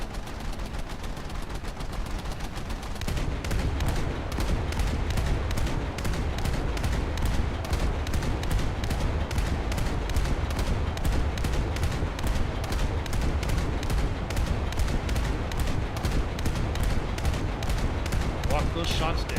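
Naval anti-aircraft guns in War Thunder fire in a rapid, relentless rhythm of sharp reports that starts after a short lull and keeps pounding at a steady fast pace, loud and close.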